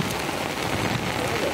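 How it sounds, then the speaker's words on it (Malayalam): Heavy rain pours steadily on a foggy mountainside, a dense, even hiss of close rainfall filling the whole moment without a break. "ഇപ്പൊ ഇവിടെ നല്ല നല്ല മഴ"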